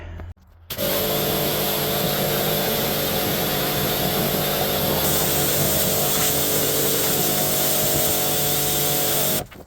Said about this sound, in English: I'm now going to get the pressure washer back in here and just give this a clean up.